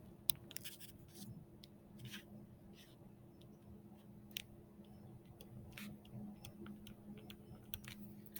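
Pen or marker writing a math expression by hand during a calculus lesson: faint, irregular scratchy ticks and short strokes over a steady low hum, close and quiet, with no clear talk.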